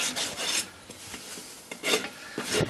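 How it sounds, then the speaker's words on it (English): A file rasps across a steel horseshoe and its soft screws in several scraping strokes, close and harsh, with short pauses between the strokes. "Doesn't matter if you hit the screws with the file"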